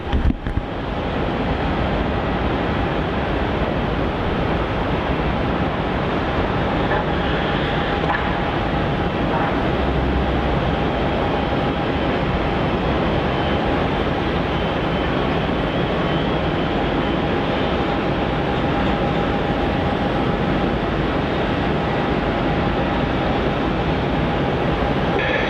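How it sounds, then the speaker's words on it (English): A Qantas Boeing 717-200 arriving on runway 16 at Melbourne Airport, a continuous broad jet roar, steady and fairly loud throughout. "QF 1513 arriving in from Canberra at say 717-200. Another pocket rocket arrival here on runway 16."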